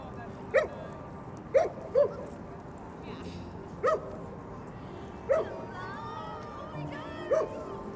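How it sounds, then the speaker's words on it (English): Several dogs in a Manhattan dog run give short, sharp barks and yips at irregular intervals, moderately distant over a steady outdoor city hum, with a few whimpers between them. "Looks like I just stumbled upon the dog area."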